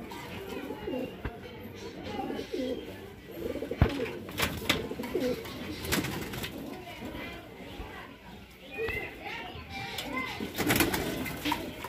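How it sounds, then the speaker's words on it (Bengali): A young racing pigeon of the Huben line cooing in a loft, several soft throaty coos and calls close by, mixed with clatter and light handling noises. "অল্প বয়সের একটি বাচ্চা কবুতর হুবেন লাইনের"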